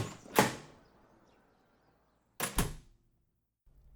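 A door opens in a dark house: a sharp thunk of the latch, a short rattling slide, then a firmer double knock as it settles, heard close and alone against near silence.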